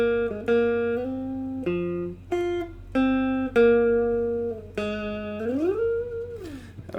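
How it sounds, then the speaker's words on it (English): Guitar synthesizer with a wobbly tremolo and chorus effect, playing the lead line from a song: a series of buzzy sustained notes, the last bending upward, played alone and close. "then you have a kind of weird tremolo chorus effect guitar synthesizer, which sounds like this."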